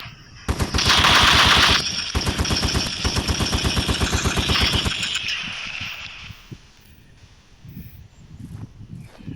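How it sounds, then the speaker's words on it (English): An STG-44 assault rifle fires in the video game Polyfield, loud, fast automatic bursts that sound like a machine gun, with a short break between strings of shots, then trailing off into fainter scattered clatter. "in-game it sounds more like a machine gun. Here, listen."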